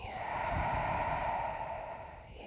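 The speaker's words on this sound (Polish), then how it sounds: "weź głęboki wdech nosem i wydech ustami" During a third-trimester prenatal exercise session, a slow, deep breath is let out through the mouth as one long, soft, airy exhale lasting a couple of seconds.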